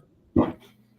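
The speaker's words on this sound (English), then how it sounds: "apologize if you hear any dog barking in the background" A single short dog bark, fairly close, followed by a brief fading tail and quiet.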